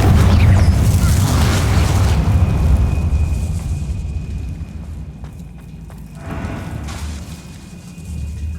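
A fire spell explodes in the Hogwarts Legacy video game, a loud deep boom that rumbles and fades over several seconds, followed by a second lighter blast near the end.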